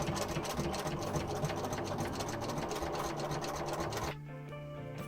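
An embroidery sewing machine stitches appliqué pieces down for a plague mask design, with a steady, fast, loud mechanical whir that stops abruptly near the end and leaves a quiet hum.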